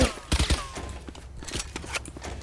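Gunfire in the tactical shooter Valorant, with a quick cluster of sharp shots at the start followed by a few scattered fainter reports, over a low game background.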